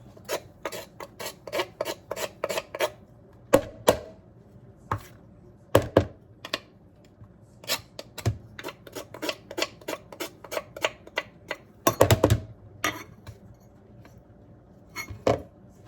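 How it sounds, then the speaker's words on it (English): Citrus peel rasped on a kitchen zester, with quick bursts of dry scraping strokes in uneven clusters, plus occasional sharper taps of the tool, close and fairly quiet, without speech. "I zested it the best I could zest it"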